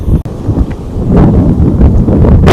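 Strong sea wind gusts across a sandy beach, a loud, continuous roaring rush with microphone buffeting that swells toward the end.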